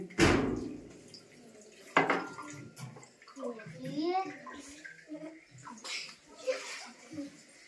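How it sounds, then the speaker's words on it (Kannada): Water splashing and pouring into a container in short bursts, with a child and an adult talking over it. "ನೀವು ಎಷ್ಟು ತುಂಬಾ ನೀರು ಹಾಕ್ತೀನಿ"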